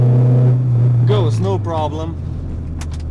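A Renault Clio pulls in second gear with a steady, loud engine drone that dips slightly toward the end, while someone talks over it.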